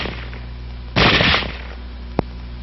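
A single short burst of automatic gunfire as the bolt cycles rapidly, loud and close, followed a moment later by one sharp metallic click.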